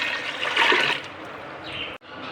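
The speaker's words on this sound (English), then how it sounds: "So I'm adding 3 glasses of water to it." Water poured from glasses into a pot holding chicken leg pieces for Mandi biryani, a rushing, splashing pour that swells early and then trickles steadily before a brief break and a final splash.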